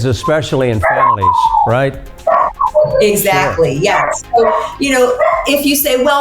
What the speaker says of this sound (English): Your dog in the background is having a little fun, a little hungry, right?